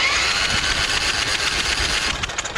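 Vanguard 23HP V-twin engine on a Husqvarna 2346XLS lawn tractor cranking over on its starter with no fuel, a steady loud whirring churn with rhythmic pulses that runs continuously, then slows and stutters near the end.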